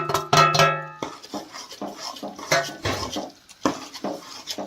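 A spoon scrapes and clinks against a pan while panjiri made of roasted flour, almonds, walnuts, cashews, poppy seeds and melon seeds is mixed, with close irregular metallic knocks and a ringing clang at the start.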